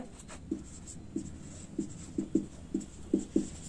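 Chalk or marker writing on a board during a physics class, with about ten soft taps and short strokes in an irregular rhythm over a quiet room.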